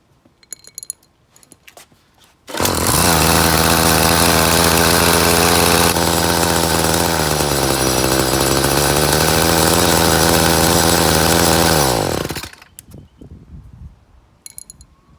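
A Craftsman 31cc string trimmer engine fires up after a few pull clicks and runs loud and steady near the mic for about ten seconds, its buzzing pitch dipping briefly, then cuts off abruptly into quiet handling noises.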